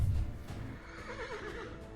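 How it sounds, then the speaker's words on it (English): Horse whinny sound effect played during a Pathfinder tabletop game session, a short neighing cry over a low thump at the start, fairly loud and alone with no talk. "a whinnying horse and then a very angry hag noise"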